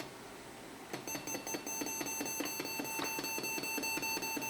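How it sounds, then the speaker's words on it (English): A steady series of long electronic beeps repeats rhythmically over a soft mechanical whir from an Indus GT disk drive reading a double-density disk, close and clear, with no voices. "The long beeps."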